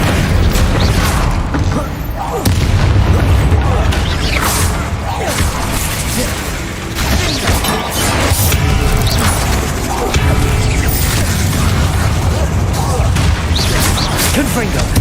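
Repeated explosive spell blasts from the Hogwarts Legacy video game, loud booms and crackling bursts with whooshes firing in quick succession over a dense, continuous game soundscape, with a voice talking between them.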